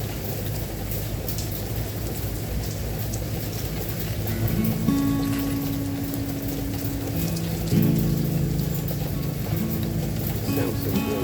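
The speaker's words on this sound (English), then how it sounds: "Sounds so good with the rain" Steady rain hiss runs throughout, with a guitar-like melody playing over it, close and continuous, as people talk quietly underneath.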